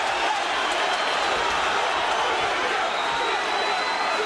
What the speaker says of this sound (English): he's got the crowd going